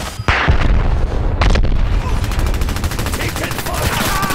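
Gunfire in the video game Dirty Bomb, loud bursts of rapid automatic shots and booming blasts packed densely together and continuing through the whole stretch, with no clear talk.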